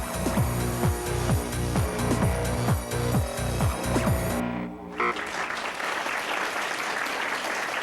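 Applause for a dancer's audition performance for the San Diego Chargers cheerleading squad: rhythmic musical sounds give way to a steady wash of clapping from a room full of people that carries on to the end.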